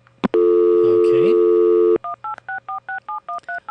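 A phone line dials out to an automated answering service: a short click, then a long steady dial tone, followed by a rapid even run of about a dozen clipped two-note dialing beeps, close and loud, with no talking.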